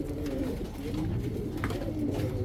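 Soft, low cooing of racing pigeons, murmuring close by and continuous over a quiet background.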